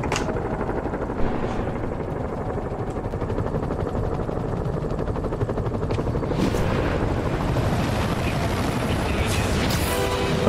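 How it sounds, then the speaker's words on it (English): Loud, steady whirring rumble of a helicopter's rotors in the video game Spider-Man PS4 dominates throughout, with occasional sharp bangs and a voice shouting over it. "Helicopter!"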